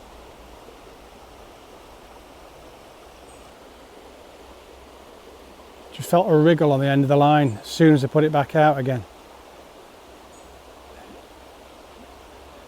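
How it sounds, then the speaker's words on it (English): A fast-flowing stretch of river fished with a fly rod produces a steady, soft wash of running water throughout, with someone briefly talking close by in the middle. "It's a nice bit of river this. It's coming down at a fair pace"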